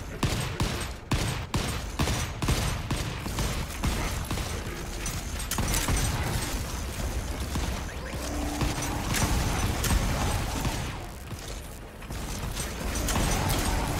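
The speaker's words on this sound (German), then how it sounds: "Die Lichter müssen wir schießen" Rapid, loud volleys of gunfire from Volcanoids as players shoot at lights inside a cave, sharp shots repeating in quick bursts across the whole stretch with some mechanical rumble underneath.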